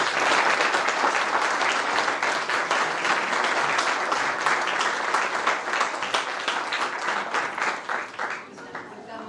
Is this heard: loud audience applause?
yes